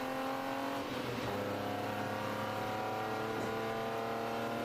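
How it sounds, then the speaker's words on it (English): A race car engine idles and drones steadily after start-up at an endurance race, a constant harmonic hum with a brief rise in pitch, heard at moderate distance amid track ambience. "It's the engine."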